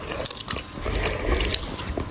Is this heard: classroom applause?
no